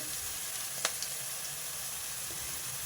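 Green chillies, onions and garlic fry in oil for a garlic chicken curry, with a soft, steady sizzle at low level and one brief clink from a utensil partway through.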